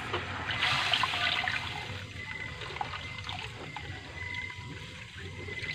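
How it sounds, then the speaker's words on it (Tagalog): Water trickles and splashes steadily into a cooking pan, a continuous liquid hiss with a low rumble beneath, fairly close and moderately loud. "Lagyan natin ng tubig"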